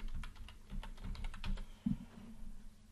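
Close, steady typing on a computer keyboard during graphic design work in Adobe Illustrator, a quiet run of rapid key clicks with one slightly firmer keystroke near the end.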